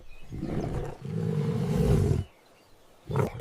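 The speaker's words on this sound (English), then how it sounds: "This is a lion." A lion roars twice in long, loud, rumbling bursts separated by a short pause, then a third roar begins. The roars are close and stand alone with no talking.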